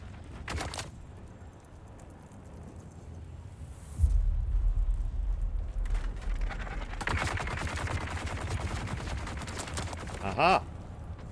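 Muffled bursts of gunfire come up from below the floor in the Mithra Lost Harvest DLC, a short volley early on and a longer crackling spell later, over a low rumble, with a brief voice near the end.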